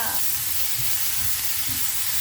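Tomato and chili paste for a fresh chili and fermented fish relish stir-fried in a pan, giving a steady close sizzle with some low scraping stirs throughout, no talking.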